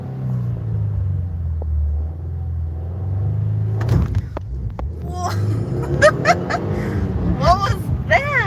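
A 2020 Subaru WRX idles with a low, steady engine rumble, then abruptly cuts out on a clutch-drop launch with a sharp jolt, followed by people talking inside the car.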